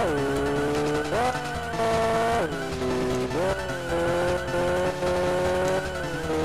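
Drifting race cars in a Game Boy Advance racing game, with synthesized engine tones rising and falling in pitch between shifts and continuous tire-skid squeals, loud and steady throughout without talk.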